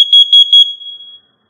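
Nest smoke and carbon monoxide alarm in a test cycle, giving a loud, piercing high-pitched tone pulsed in three quick beeps, then a fading sustained note.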